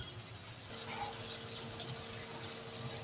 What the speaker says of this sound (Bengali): এবার এর মধ্যে জলটা দেবো।